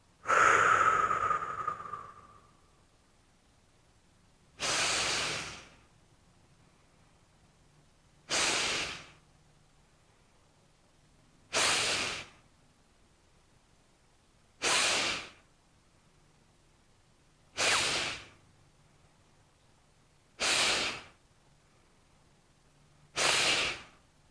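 Deep breathing exercise through the nose: seven strong, evenly spaced nasal breaths, each a loud close rushing whoosh separated by quiet pauses, with no talking.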